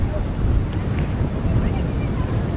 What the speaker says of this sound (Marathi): वारा बघा कसं आहे मस्त वारे बघा